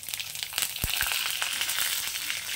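Dry red chillies, mustard seeds, curry leaves and green chilli crackle and sizzle in hot oil, a continuous busy frying hiss with a few sharper pops and a light stir near the start, close and steady, no talk.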